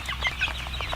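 Chickens cluck in a Kentucky factory-farm chicken house, with short overlapping calls rising over a steady low ventilation hum throughout.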